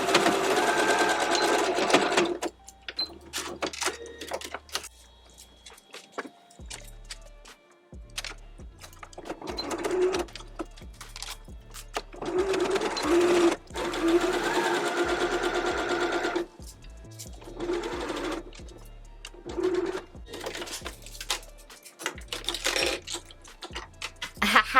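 A sewing machine runs top stitching on a summer garment in close, loud bursts of rapid whirring, stopping and restarting several times, with short mechanical clicks and thumps between the runs.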